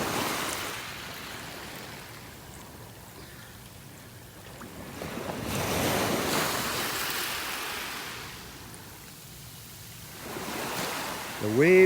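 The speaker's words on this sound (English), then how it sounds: "The waves are doing the sifting for me now." Ocean surf rolls in on a beach in North Naples, Florida, with waves breaking and washing up in slow swells that rise and fade, a broad roaring wash under light wind noise.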